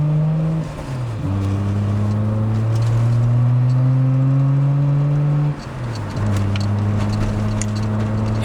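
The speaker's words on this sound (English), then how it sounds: "So that's just insane, the sound coming from this engine." A Nissan Skyline GT-R R33 Autech Version 40th Anniversary engine revs loud and close, its tone climbing steadily through the gears, with two brief dips at the gear shifts before it pulls again.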